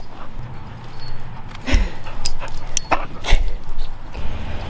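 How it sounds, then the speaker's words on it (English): A happy rescue dog at a humane society gives short whimpers and yips with a few sharp bark-like bursts, close by and moderately loud over an outdoor background. "She is a really happy dog."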